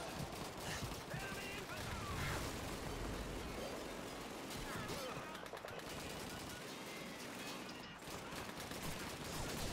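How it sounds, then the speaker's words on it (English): Dense, continuous rifle and machine-gun fire from the World War II shooter Call of Duty 2 at a railway station battle, loud and unbroken, with a voice speaking faintly beneath the shooting. "Give me covering fire, comrades."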